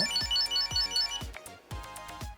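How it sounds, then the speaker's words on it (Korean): A bright electronic ringtone melody from a Chipolo One item tracker chimes in quick repeated bursts, fairly close and clear, with no talking. "벨소리를 울려서 찾기"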